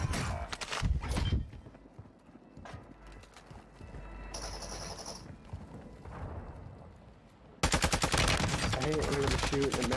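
Gunfire in the video game Call of Duty Warzone, with bursts of sharp shots near the start, quieter game sounds in the middle, then a loud, dense stretch of rapid fire toward the end.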